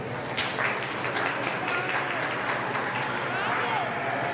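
Steady applause from an audience at an annual achievement day livestock event, honoring a sheep show exhibitor, rather soft and distant throughout with a faint voice underneath.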